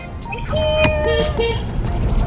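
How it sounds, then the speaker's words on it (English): A car horn sounds in short toots over low road rumble and engine noise, fairly close, with faint voices in the background. "I'm honking."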